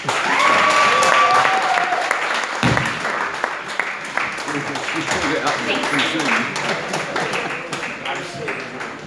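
Audience applause for a live singer at the Madding Crowd venue in Bournemouth, steady and fairly loud across the whole stretch, with scattered cheers and a voice speaking over the clapping early on.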